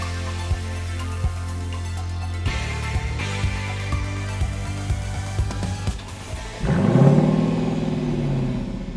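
A Lexus LC500 or Jaguar F-Type P380 sports car at a drag race, a few clicks and a low hum giving way to a sudden loud engine rev that swells and holds near the end.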